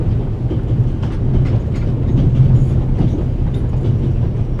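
A passenger train rolling along in the adventure game The Raven: Legacy of a Master Thief gives off a steady low rumble with faint rhythmic clickety-clack from the wheels, continuous and fairly loud throughout.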